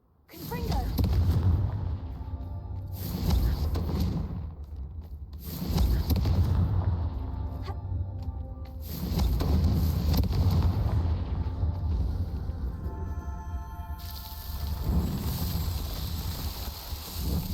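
Repeated Confringo fire spell blasts in Hogwarts Legacy, heavy booming explosions recurring every few seconds with rumbling low end and crackling tails, under a loud continuous game soundscape.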